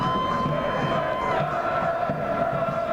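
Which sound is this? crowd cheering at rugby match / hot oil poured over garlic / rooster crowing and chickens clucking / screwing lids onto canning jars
crowd cheering at rugby match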